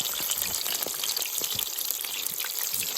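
Po'boy sandwich ingredients fry in very hot oil outdoors, a steady crackling sizzle with scattered pops and bubbling, continuous and fairly close.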